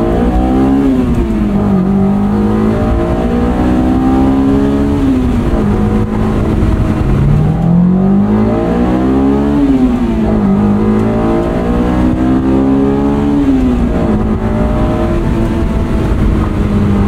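A 2003 Honda S2000 with 19k miles drives along, its engine droning loudly and continuously from inside the cabin, the pitch climbing and dropping repeatedly through gear changes.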